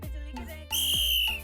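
On a Celebrity MasterChef cooking set, a whistle gives one sustained shrill blast of about half a second, loud and close, with voices murmuring around it.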